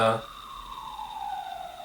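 An ambulance siren passes outside, a faint, steady wail whose pitch glides slowly downward as it moves away.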